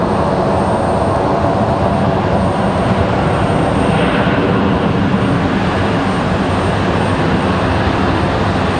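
An American Airlines Boeing 737-800 landing on a windy day at Raleigh-Durham sends out a loud, sustained jet roar with a slight swell in the middle, unbroken and free of talk.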